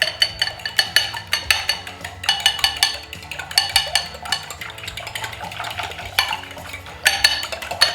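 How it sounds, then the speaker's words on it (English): Eggs and milk are whisked into an egg wash in a bowl, giving a quick, rhythmic series of clinking, scraping utensil strokes against the dish that sound close and fairly loud, with short pauses between bursts. "Get my egg wash mixed up here."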